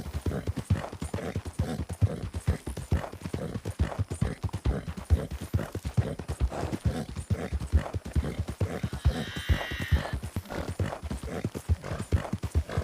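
Steady clip-clopping hooves of a horse pulling a cart in a Western video game town, a brisk even rhythm running throughout at close range, with a short higher mechanical tone briefly overlaid midway.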